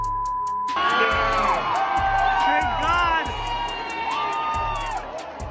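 A concert crowd at a show cheers and whoops loudly and continuously, with rising shouts and sustained roaring from many voices, swelling then easing slightly.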